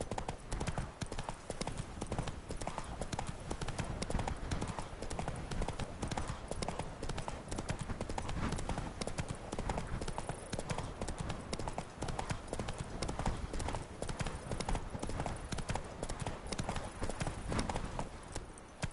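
Roach the horse trots in The Witcher 3, a steady quick clip-clop of hooves running close and even for the whole stretch, with a faint voice briefly under it.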